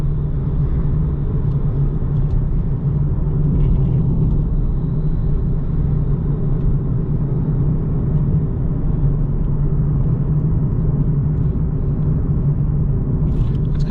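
A 2015 Nissan 370Z base coupe with a 7-speed automatic being driven, a steady low engine and road rumble heard from inside the cabin, continuous and loud with no talking.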